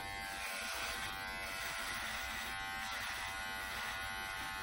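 An electric shaver buzzes steadily and close up as it runs over facial hair, a continuous bright whine with no pauses and no talking.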